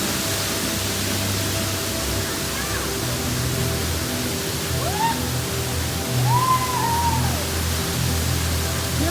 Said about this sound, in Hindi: झरने की डेंसिटी देखो, इतना ज़्यादा पानी है